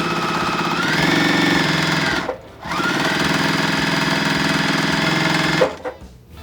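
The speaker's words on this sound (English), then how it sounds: "Right sides together, and you're going to sew down the entire length of your strips." Sewing machine stitching long fabric strips together for a quilt, a steady loud mechanical whirr running in two long bursts with a brief pause between and a stop near the end.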